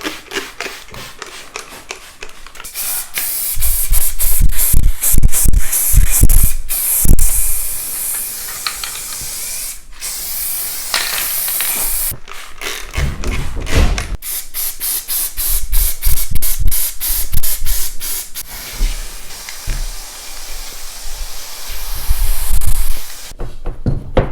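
Repeated loud hissing bursts of spray paint and water mist, short rapid puffs alternating with longer continuous sprays, close up with brief pauses between.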